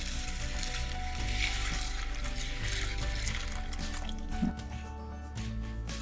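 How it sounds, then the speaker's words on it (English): Water pours and splashes into a large bowl holding chana dal, green chilies and water, a close, steady liquid gurgle with small drips and squishes. "Now add water."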